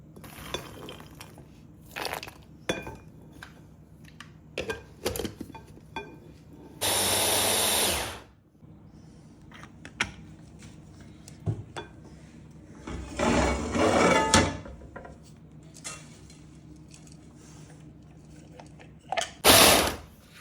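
An electric grinder coarsely grinds dry fruits such as almonds for panjiri in a home kitchen, running in three short, loud, whirring bursts separated by quiet handling clatter.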